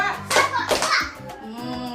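Children at an early-childhood class clap hands in a short rhythmic clapping chant, a few quick claps under a teacher's voice.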